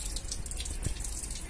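A home-grown watermelon washed under running water, a steady close hiss of flowing tap water with faint splashing throughout the short stretch.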